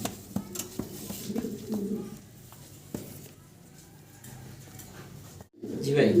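Racer and Syrian pigeons coo softly in low, rounded bursts amid a fancy pigeon collection, with someone talking over them and a few light clinks nearby.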